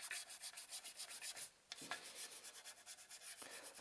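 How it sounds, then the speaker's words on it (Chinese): Sandpaper rubbing over a wooden high round stool to smooth away water marks, a steady rapid back-and-forth scratching at close range with a brief pause partway, no voices. "那我们还是要用砂纸轻微的再处理一下"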